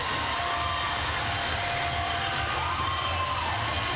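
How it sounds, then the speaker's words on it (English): Spectators at a youth hockey gold medal game jump to their feet cheering a goal, a loud sustained wall of shouting and whooping with high children's voices standing out. "And the crowd gets up out of their seat"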